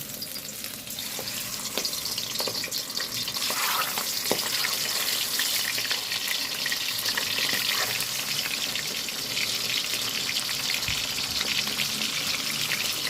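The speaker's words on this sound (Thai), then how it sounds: "แล้วก็ตั้งน้ำมันให้ร้อนเลย ใส่หมึกลงไปเลยค่ะ" Squid frying in hot oil for a garlic fried squid dish, a steady loud crackling sizzle throughout with occasional sharper pops, no voices.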